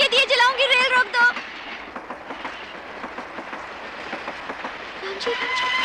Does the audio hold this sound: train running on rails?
yes